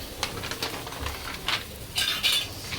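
Dirty pots, plates and utensils left after a home meal of parathas are picked up and moved for washing. Scattered metallic clinks and clatters come close by, with a brighter cluster of rattles near the end.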